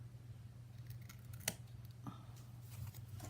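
Scissors cutting paper while making a homemade cheque book, with quiet, close snips and crisp paper rustles, one sharper snip standing out, over a low steady hum.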